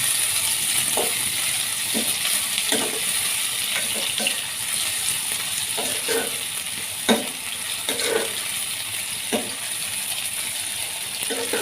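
Chopped onions sizzle in hot oil in a kadhai for a ridge gourd sabzi, a steady bright frying hiss broken by repeated scrapes and clinks of a stirring spoon, with no talk.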